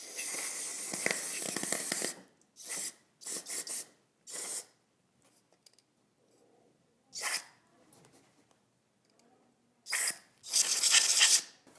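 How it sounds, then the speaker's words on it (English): Short, sharp hissing bursts of carburetor cleaner sprayed onto a dirty lawn mower carburetor, several separate blasts of a second or two each with quiet pauses between, ending in a longer, louder spray. "I'm just going to start hitting this with some carb spray."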